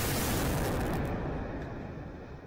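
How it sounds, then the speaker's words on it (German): Controlled demolition blast bringing down the Monaco apartment building, Pablo Escobar's former house in Medellín: a loud, sustained rumbling roar that fills the first second, then slowly fades into a long low decay with no voices. "In der Stadt Medellin haben die Behörden das Haus des legendären Drogenbosses Pablo Escobar gesprengt."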